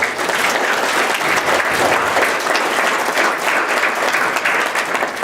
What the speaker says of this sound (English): I know you all are clapping for him